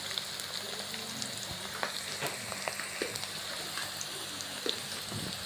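Spring onions and garam masala frying in a pan for beef and vegetable samosa filling, a continuous crackling sizzle at moderate volume with small pops, no voices.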